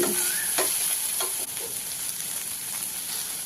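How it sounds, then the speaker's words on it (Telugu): Bean pieces frying in oil in a pan, a steady close sizzle with a few stirring scrapes early on, no talking. "బీన్స్ ముక్కల్ని ఒక రెండు నిమిషాల వరకు నూనెలో వేయించుకోవాలి"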